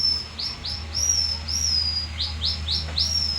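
A series of short, high, rising whistled chirps from a small bamboo whistle imitating bird calls in Palawan, repeated in quick bursts, over a low steady hum.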